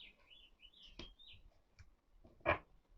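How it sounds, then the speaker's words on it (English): A small bird sings high, warbling notes close by but softly. A few clicks and a louder knock break in, and no one talks. "I wonder what kind of bird that is."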